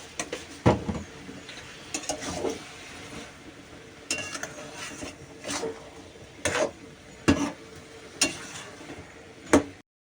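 Cabbage curry being stirred in a pan after sugar goes in, with repeated sharp clinks and scrapes of a utensil against metal at irregular intervals, close up, plus faint background noise.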